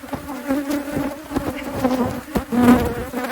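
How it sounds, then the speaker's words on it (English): Many bees fly close around a hive being split after canola bloom in South Africa, a loud, fluctuating buzz that swells as individual bees pass near. "with the bees flying in front of the camera the whole time"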